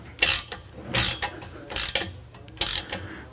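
A 3/8-inch ratchet wrench clicks in four quick bursts, close and crisp, while tightening nuts on a BMW 1M exhaust fitted with fresh gaskets, with no voices over the ratcheting.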